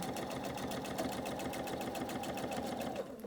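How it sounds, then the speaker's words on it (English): A sewing machine stitches across the border strip of a Hunter Star quilt, running with a steady, fast, even whir of needle strokes that carries on without pause and then stops just before the end. "I'm going to stitch in 3, stitch out 3, stitch back in, come across that strip"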